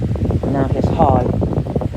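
A 12 inch Bionaire desk fan runs on its high setting, giving a steady breathy whoosh of moving air that sits beneath someone talking close by.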